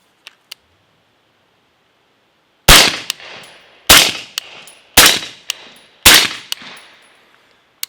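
Four suppressed shots from a 300 Blackout rifle fitted with a Griffin Optimus silencer crack out at a steady pace about a second apart, each a sharp loud report with a quick decay and a metallic clink, preceded by faint clicks.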